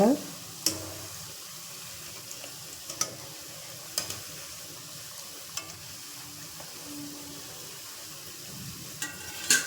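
Ribbon pakkoda fries in oil on a low flame, a steady soft sizzle broken by a few sharp ticks and clinks of stirring, heard without talk.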